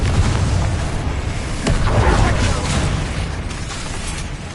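Confringo spell blast in the Hogwarts Legacy video game, a loud booming explosion with a rumbling low roar that swells and then slowly fades, mixed with game effects.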